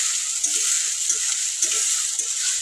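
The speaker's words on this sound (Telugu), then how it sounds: "ఇవైతే ఒక 2 నిమిషాలు అయితే సిమ్లో పెట్టి వేయించుకుందాము దోరగా" Onions with green and dried red chillies frying in a pan, a steady hiss of sizzling oil punctuated by regular soft scraping stirs, close and continuous with no voices.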